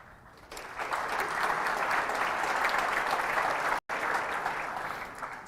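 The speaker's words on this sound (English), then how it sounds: "you should give yourself a round of applause for being part of this awesome community" Conference audience at a developer keynote giving a sustained round of applause, dense and even clapping from a large crowd that swells in, holds steady, and fades slightly toward the end.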